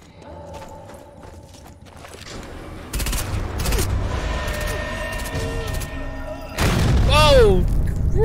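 Heavy gunfire from a large weapon in the World War II shooter Sniper Elite 4, with loud booming bursts arriving abruptly and repeating amid game noise, while someone talks over it.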